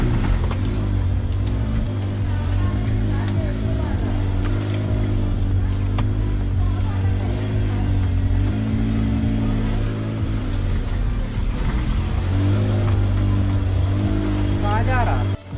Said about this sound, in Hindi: थोड़ा चल के देखते हैं, तभी गाड़ी में दिक्कत पता चलेगी।